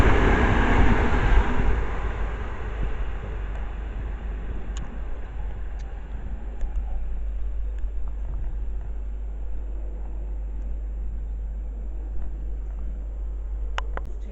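A Class 377 electric train at North Wembley station, a loud rumbling roar that is strongest at the start and then eases into a steady, even running rumble with faint ticks and squeals, and no voices.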